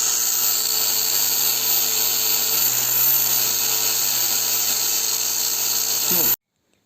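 High-pitched whine of a powered abrasive sanding a knife blade forged from a file with 60-grit, steady and close for several seconds before cutting off abruptly.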